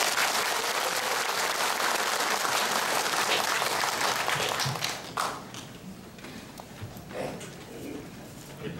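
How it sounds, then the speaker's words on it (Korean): A welcoming round of clapping from a seated audience at a forum rises thick and steady, then thins into scattered claps and fades out, followed by quieter room sounds. "환영의 박수 부탁드리겠습니다."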